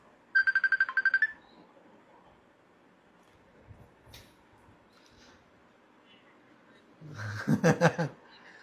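An outgoing call on a phone plays a ringing tone in two short repeated bursts, one at the start and another near the end, separated by a quiet gap with faint background noise.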